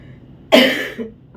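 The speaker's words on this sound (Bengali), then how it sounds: "খুব বেশিক্ষণ কথা বললে আমার কাশি এসে যাচ্ছে" One sharp, close cough bursts out after a moment of quiet, trailing off with a small throaty follow-up.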